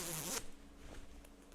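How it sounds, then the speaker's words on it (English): A plastic zipper on a Define jacket is zipped in one quick, close, crisp rasp lasting well under half a second, followed by near silence. "The zippers are plastic. I'm going to zip one for you, but they're a really nice zipper."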